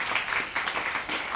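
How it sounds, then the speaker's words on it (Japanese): An audience at a media art festival claps to welcome an artist on stage, steady sustained applause filling the room at moderate loudness. "皆様拍手でお迎えください。"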